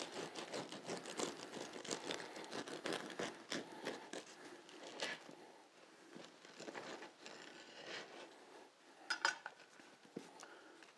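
A knife saws steadily through the crusty shell of a homemade sourdough loaf, giving close, continuous crackling and scraping strokes that fade slightly toward the end.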